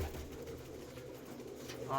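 Pigeons coo in a loft, a low, continuous murmur of overlapping calls with a busy background hum throughout.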